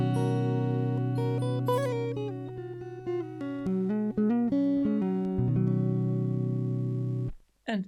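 Dry electric guitar played clean with no effects, a close, steady series of picked notes and chords that rings out and cuts off near the end.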